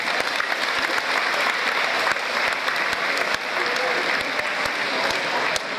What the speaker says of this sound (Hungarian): nagy tapsot nekik